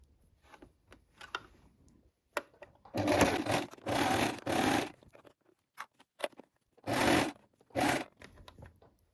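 A sewing machine stitches back and forth on a dress collar. Short whirring runs are separated by quiet gaps and soft handling clicks, and it is fairly faint and close.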